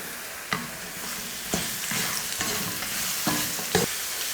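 Sliced mushrooms are stirred into onions frying in a pan. Oil sizzles close by, and several sharp spatula knocks and scrapes are spaced irregularly across the stir.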